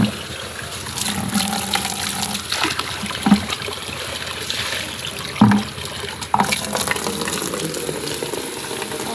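Tap water running and splashing in a village setting where clothes and quilts are washed, a continuous trickling flow with a few louder thuds and splashes scattered through it, no talking.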